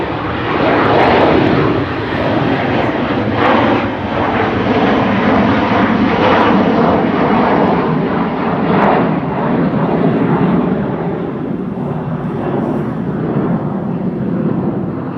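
Loud, continuous roar of a Turkish Airlines jet taking off at Amsterdam Schiphol Airport, a broad rumbling engine thrust that holds steady and close throughout with no talk.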